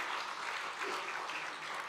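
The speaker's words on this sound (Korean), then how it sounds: "우리 성도 여러분들께서 박수로 환영해 주시고" A church congregation at a Christmas service in Bongcheon Methodist Church applauds the newly baptized members, a steady, diffuse wash of many hands clapping at moderate distance, fairly soft, with no voices standing out.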